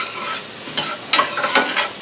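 French-cut green beans sauté and brown in a pan, a steady sizzling hiss broken by a few sharp scraping stirs near the end, close and fairly loud with no talk.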